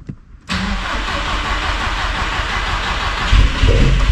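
After a brief quiet moment, a 20VT car engine on a dyno cranks and catches, then settles into a loud, steady idle with a short rev near the end.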